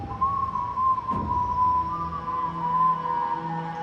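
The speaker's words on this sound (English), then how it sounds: "Your terrible whistling is giving me a headache." Someone whistles a wavering, tuneless melody close up in the game Saga of the Nine Worlds, sustained over a low background rumble, with a brief thump partway through.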